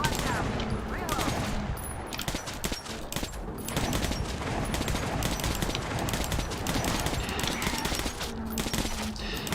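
Dense, continuous automatic gunfire in the shooter game Metro Last Light: rapid overlapping bursts and sharp shots fill the whole stretch at steady loudness, with a voice talking intermittently underneath.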